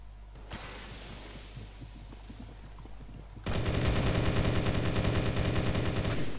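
Automatic gunfire from a Roblox CS:GO-style shooter: a quiet stretch with scattered faint clicks, then a sudden loud, rapid burst of shots hammering steadily for about three seconds before cutting off.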